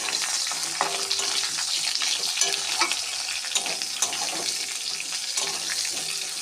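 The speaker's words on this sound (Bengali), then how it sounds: "আলু আর গাজরটা একসঙ্গে ভাজবো" Potato and carrot pieces fry in a pan with dried chili, bay leaf and black cumin, a constant close sizzle broken by scraping stirs and clinks.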